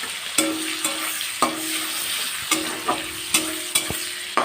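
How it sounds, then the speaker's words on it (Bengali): Chopped onions fry in oil with dried red chillies and five-spice seeds, a close, steady sizzle broken by sharp, regular clanks of a spatula scraping the pan about once or twice a second. "ভালো করে এবারে পেঁয়াজগুলো ফ্রাই করে নেব লাল লাল করে"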